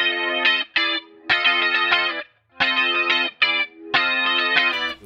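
A heavily compressed electric guitar plays the intro of a song, bright squeezed chords in choppy rhythmic bursts with short gaps, loud and alone.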